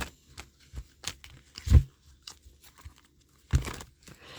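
A deck of cards is shuffled by hand, with soft papery riffles and two sharper bursts of crisp flicking, close and with no talking.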